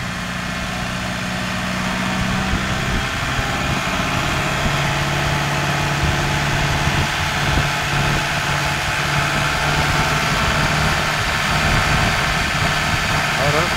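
A Kubota MU5502 4WD tractor with 1250 hours, in for an oil service, idles smoothly with a steady low drone throughout, while someone talks nearby.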